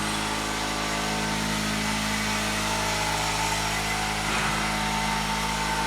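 An air compressor runs at a house construction site, a loud, steady mechanical drone that holds unbroken throughout.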